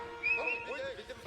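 A horse neighs once in Age of Empires 4, a short, bright whinny heard at moderate volume during a match.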